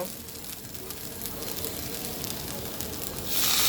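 Vegetables and spices sizzle steadily in a pan, a continuous close frying hiss that flares louder at the end as a little water hits the hot oil.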